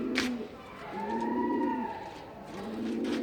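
Pet pigeons in their coop give repeated low cooing phrases in a steady rhythm, close by, with a faint background hum and no talking.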